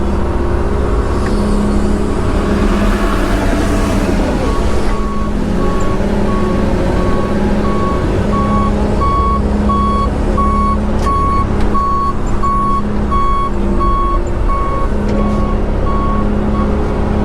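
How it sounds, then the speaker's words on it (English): A dirt-hauling truck backs up to unload, its reversing alarm beeping in a steady, evenly spaced series over a loud, constant diesel engine rumble, with air-brake hiss and no one talking. "Let me get this second truck unloaded"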